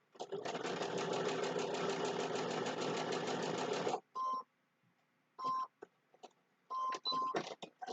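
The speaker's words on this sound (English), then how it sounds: "And I'm just going to quickly get that sewn." A sewing machine stitching a seam on a Christmas table runner block, a loud continuous whir for about four seconds, then several short separate bursts of stitching.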